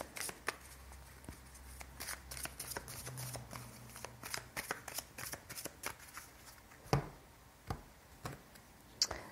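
A deck of cards being shuffled, a quiet run of rapid riffling flicks and taps close by, with no talk during the shuffle.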